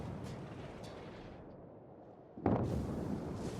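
Naval guns fire at an enemy ship during a World of Warships battle, with a sudden booming salvo about two-thirds of the way through that rolls on after a low, steady rumble of battle noise.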